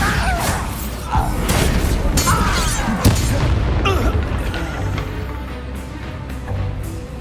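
A Bombarda spell explodes in Hogwarts Legacy with a heavy boom, followed by crashing debris and rumbling bangs that carry on as a dense, loud clatter with whooshes throughout.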